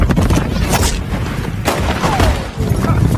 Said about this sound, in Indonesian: Sedangkan Dan dan John, mereka juga akhirnya tertembak